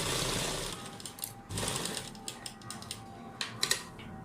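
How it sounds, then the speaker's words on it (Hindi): A sewing machine stitches pearl lace onto a suit, beginning with a steady mechanical whir that gives way to softer, intermittent ticking and clicking of the mechanism, all fairly quiet and close, with no talking. "अब पहले हमने एंड तक सिलाई लगा लेनी होती है हमेशा।"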